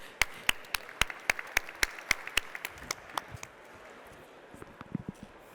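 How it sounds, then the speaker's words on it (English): A sparse round of applause in a conference hall: a run of crisp, evenly spaced claps that thins out and fades, quiet against the room, followed by a few scattered taps. "Big applause"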